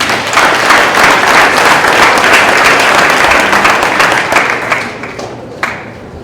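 Sustained applause from an audience at a high school winter sports awards ceremony, steady clapping throughout that tapers off toward the end.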